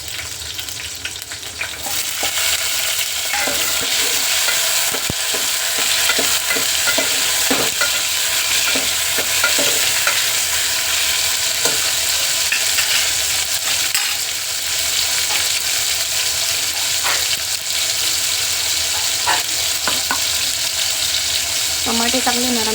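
Chillies and then tomatoes stir-fried in a pan for a bhaji, a loud continuous sizzle with intermittent scraping and stirring clatter close up throughout.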